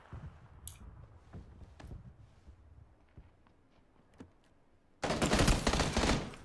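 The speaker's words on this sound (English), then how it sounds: "Oh, he's shooting at me." Gunfire in the PUBG video game, a sudden loud burst of rapid shots in the final second and a half after quieter clicks and footsteps.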